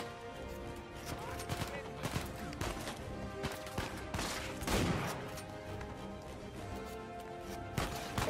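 Shotguns fire in the video game Uncharted 4 as a string of sharp blasts scattered across a noisy firefight, mixed with other impacts, while someone talks over the action.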